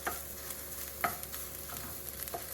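Fried rice with cabbage stir-frying in a pan, with a steady sizzle and a few sharp scrapes and clanks as the food is stirred and moved around, without talk.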